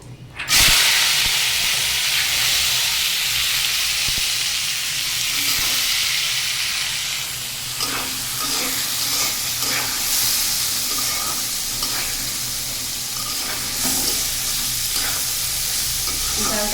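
Chana dal hits hot oil already seasoned with bay leaf, cumin and ginger, giving a loud continuous sizzle and hiss with occasional stirring scrapes, and no talking.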